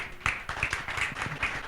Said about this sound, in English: please give a warm applause to Steve Reinke